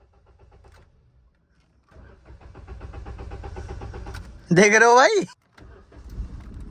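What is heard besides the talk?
vehicle engine being started after long disuse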